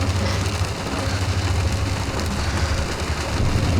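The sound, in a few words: heavy rain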